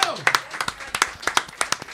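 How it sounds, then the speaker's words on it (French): A stand-up comedy audience gives a short, light patter of scattered claps, close and uneven, with a voice heard over them. "on peut les applaudir quand même"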